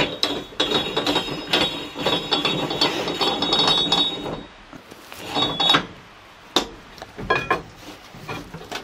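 A ratchet tightens parts in quick, repeated clicking bursts, loud and close, with brief pauses and a few sharp metallic knocks in between.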